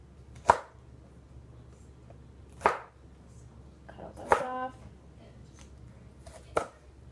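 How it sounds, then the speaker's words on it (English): A knife chops the tough ends off Brussels sprouts on a cutting board, four sharp, separate cuts spaced a second or two apart against a quiet kitchen background. "you're going to want to cut the ends off of your Brussels sprouts, just those big ends"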